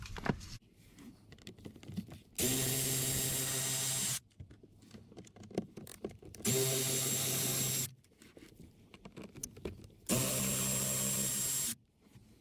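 Power tool with a T20 Torx socket backs out screws during cabin filter replacement on a 2008-2017 Ford Fiesta, running in three steady whirring bursts of about two seconds each, separated by quieter handling noises.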